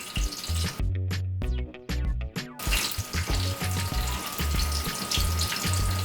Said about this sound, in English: you put your bammy in and you allow those to fry